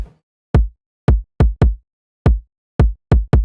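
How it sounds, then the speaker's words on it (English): Kick drum sample from a UK bass production in Serum 2, struck eight times in a syncopated pattern, each hit a punchy, boomy thump with a quick decay, played alone with silence between hits. "So the kick sounds like this."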